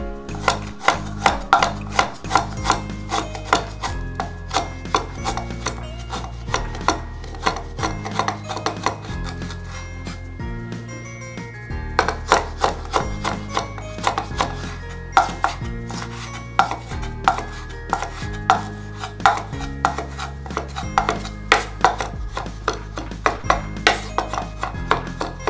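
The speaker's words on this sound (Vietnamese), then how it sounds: "Sau khi chúng ta băm nhuyễn gừng" A knife chops and minces fresh ginger on a cutting board in quick, steady rhythmic strikes with brief pauses, loud and close with no talking.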